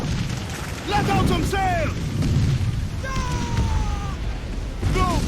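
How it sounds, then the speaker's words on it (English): Ship cannons booming in a naval battle in the video game Assassin's Creed 4 Freedom Cry, several heavy blasts in quick succession amid crew shouts and battle noise, with a man calling out orders over them. "Ready to fire!"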